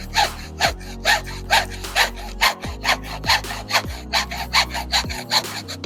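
A hand saw cuts through wood for a Finnish skittle in steady back-and-forth strokes, a rhythmic rasping repeated about a dozen times, close and loud.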